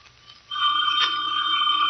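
An old-fashioned telephone bell in a vintage radio drama, starting after a brief quiet and ringing steadily with a bright metallic trill that holds to the end.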